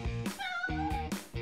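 A cat gives several short meows in a row, close and clear, each call rising then falling with brief gaps between.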